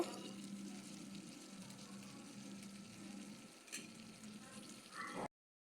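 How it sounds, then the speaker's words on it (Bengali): Potato, eggplant and pumpkin fry lightly in a pot in a hostel kitchen, giving a steady soft sizzle with faint stirring clinks, quiet and continuous until it cuts off abruptly. "এখানে আলু বেগুন মিষ্টি কুমড়া আছে সবজিগুলো হালকা ভাজি করব"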